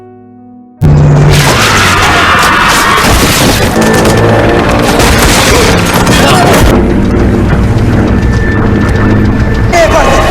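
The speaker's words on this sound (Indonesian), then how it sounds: "pesawat Jerman datang dan menghujani kapal dengan tembakan" Loud, relentless gunfire and heavy booms crash together after a quiet start as German aircraft strafe a ship in World War II, with voices mixed into the chaotic din.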